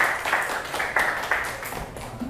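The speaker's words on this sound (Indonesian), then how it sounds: "Sekali lagi tepuk tangan untuk Yusuf" A classroom audience claps for a student named Yusuf during a math lesson on surds, a short burst of scattered hand claps close by with some murmuring under it.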